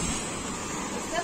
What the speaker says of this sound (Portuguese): essa onda tá forte